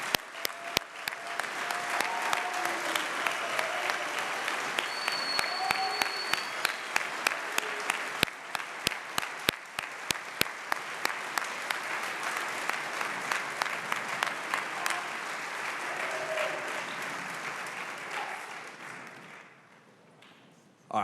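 An audience applauds in a chapel, sustained clapping with a few louder rhythmic claps cutting through, continuing for about twenty seconds before stopping abruptly.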